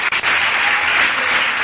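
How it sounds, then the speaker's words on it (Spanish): A crowd at a speech gives loud, sustained applause, a dense even wash of clapping from start to finish after a couple of brief dips at the very beginning. "Un aplauso para las compañeras vietnamitas"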